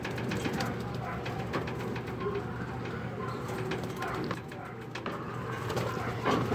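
Pigeons coo softly and repeatedly amid a busy background of rustling and faint clattering, with no clear talking.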